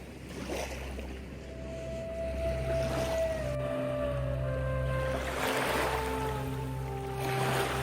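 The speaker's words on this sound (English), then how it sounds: "I was really enjoying being near the water and hearing the waves slapping" Sea waves slap near the shore at a Sharm el Sheikh resort in Egypt, a steady wash of water with faint tonal music or whistling drifting in the background, no speech.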